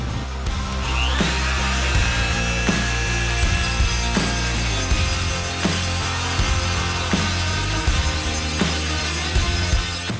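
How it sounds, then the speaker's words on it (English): A Dremel rotary tool grinds down a weld on a repaired bandsaw blade, a loud, steady high-pitched whine with a gritty rasp and regular rhythmic ticks as the wheel passes over the metal, no voices. "I'm going to have to probably finish that up with the Dremel"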